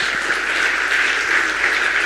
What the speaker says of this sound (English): A round of applause for the doctors as they take their seat